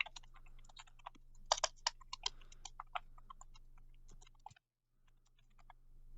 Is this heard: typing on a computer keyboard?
yes